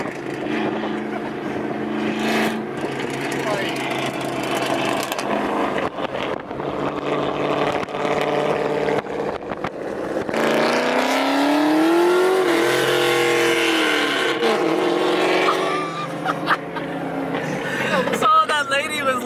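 A Chevrolet Camaro with a loud custom exhaust cruises close by, its deep engine roar swelling and falling as it revs, with people talking over it.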